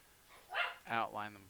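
A pet dog barks twice indoors, two short, fairly loud yaps close together, in a quiet room during a portrait-drawing session.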